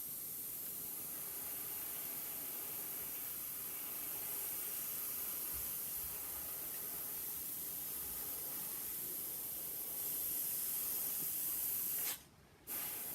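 Aerosol paint sprays in a steady, close hiss through a stencil onto bolts and ratchet bits for Green House graphics, running unbroken and briefly cutting out near the end before resuming.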